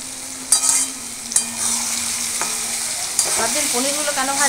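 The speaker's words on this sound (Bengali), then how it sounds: "পনিরগুলো না একটু এই সময় একটু দিয়ে নিলে পনিরগুলোর ভেতরে লবণ মিষ্টি টিষ্টি সব ঢুকে যাবে" Paneer cubes fry in a pan with sauces, a continuous hiss of sizzling oil punctuated by a few sharp spatula scrapes and clinks, close and fairly loud, with no talking.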